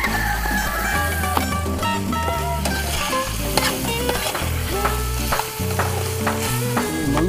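Adobo or sinigang frying in a pan outdoors while being stirred continuously; sizzling under a busy mix of tones, with no voices.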